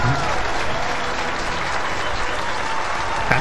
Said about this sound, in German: Allgemeiner Jubel?